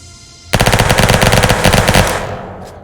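Rapid automatic gunfire from the VR battle royale game Virtual Battlegrounds bursts in after a quiet start, a loud, dense rattling stream of shots lasting about a second and a half before tapering off.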